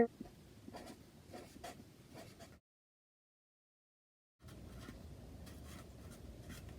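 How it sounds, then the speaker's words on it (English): A pen scratches steadily on paper while inspirational quotes are handwritten inside a handmade paper bag book, in short strokes that stop for about two seconds of silence, then resume. "I am just going to write some inspirational quotes on the inside"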